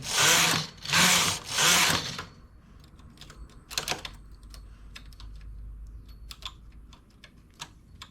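A domestic knitting machine works a rib-stitch garment: the carriage makes three long loud sweeping passes back and forth, then scattered light clicks and ticks come through over a low hum.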